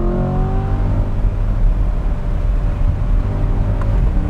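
A 2024 Chevrolet Corvette C8 Stingray 3LT's V8 engine revs high through its range while driving, a loud, close, continuous roar with rising harmonic pitch, heard from inside the car.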